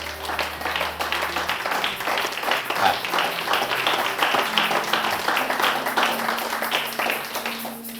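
A church congregation applauding during a service, a broad steady wash of many hands clapping in a large room, sustained for several seconds.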